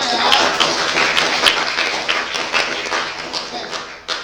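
Students applauding together in a school classroom, a dense burst of close hand clapping that continues for a few seconds, with voices mixed in.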